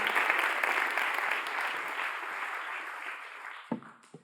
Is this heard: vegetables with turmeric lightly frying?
no